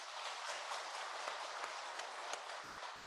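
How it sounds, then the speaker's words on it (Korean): A church congregation claps together in praise, a dense, even wash of applause sustained for a few seconds before it thins out and breaks off near the end. "우리 모두 하나님께 영광의 박수 올려드리겠습니다."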